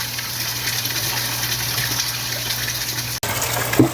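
Deep well water pours and gushes into a tilapia pond in a steady, loud rush, with a low pump hum underneath and a brief break near the end.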